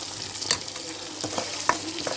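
Ridge gourd chutney stirred into a hot tempering pan, with a few sharp scrapes and short sizzling bursts over a low, steady frying hiss, close and fairly quiet.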